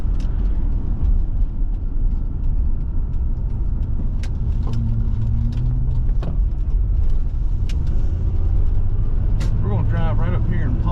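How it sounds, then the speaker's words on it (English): A car driving along Memorial Drive in DeKalb County, a steady loud road and engine rumble throughout, with passing traffic and brief tonal shifts near the end. "We're going to drive right up here and park"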